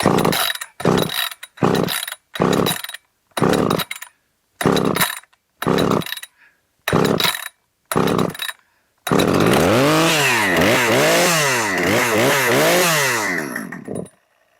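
A Husqvarna 545 chainsaw, running poorly after acting flooded, sputters in a series of short revving bursts with gaps, then holds a long, loud, wavering wide-open-throttle scream close by before cutting off.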